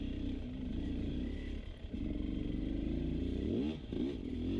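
A Beta 300 enduro motorcycle engine on a hard enduro trail, revving up and down steadily and close by, with rising and falling throttle blips and some clatter.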